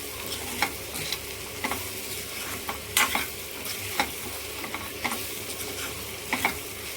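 Fresh broad beans (chikkudukaya) fry in a pan with salt on a low flame, a steady sizzle broken by repeated scraping stir strokes at a regular pace, close and clear with no talking.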